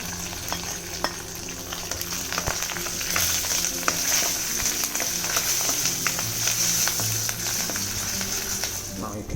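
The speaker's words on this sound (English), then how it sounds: "You can break 1 dried red chili, a few curry leaves and a pinch of asafoetida." Dals, a broken dried red chili, curry leaves and asafoetida crackle and sizzle in a pan for vegetable upma, a steady close frying hiss with frequent small pops and stirring scrapes throughout and no voices.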